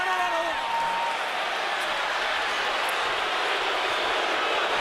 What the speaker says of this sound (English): Crowd booing after Molina pounded away at Crawford's kidneys